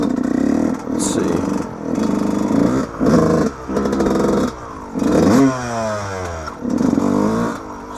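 A Yamaha YZ125 two-stroke dirt bike ridden on a trail, its engine revving close up in repeated bursts with short gaps between throttle blips, pitch climbing sharply on each rev and some clatter mixed in.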